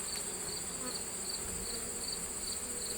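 Honey bees from a nucleus colony buzz steadily inside a Langstroth hive with deep boxes, a continuous close drone with a high whine and no talk.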